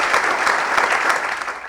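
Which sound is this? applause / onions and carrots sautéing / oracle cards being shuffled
applause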